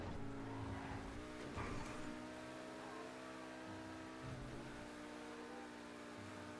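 A Tempesta sports car in GTA 5 Online races at speed, its engine droning steadily and loud throughout with gear-shift pitch changes and brief tire squeal, no talking over it.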